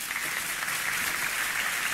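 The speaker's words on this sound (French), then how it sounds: "Fidèle qu'on peut applaudir." A studio audience at a game show applauds in a dense, even wash of clapping that holds steady throughout, with no voices over it.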